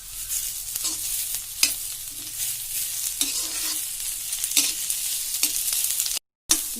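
Carrots and capsicum stir-frying in a pan for veg spring rolls, a steady close sizzle broken by sharp scrapes and clacks of a spatula at irregular intervals, with a brief dropout near the end.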